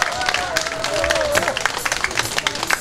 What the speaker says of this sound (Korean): 세상에 이렇게 인사를 했는데도 박수 안 친 사람은 사람도 아니네 진짜